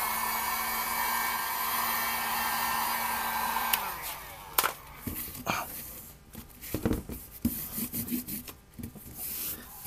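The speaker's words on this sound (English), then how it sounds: "Let's try the heat gun on it." A heat gun blows hot air onto cardboard camper cabinet parts, a steady loud blowing hum that stops partway, followed by scattered rustling, tapping and handling noises of cardboard.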